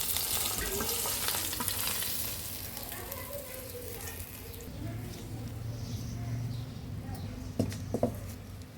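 Sliced onions and green chillies fry in oil for tilapia do-pyaza in a village kitchen, a constant crackling sizzle with a couple of sharp clinks near the end.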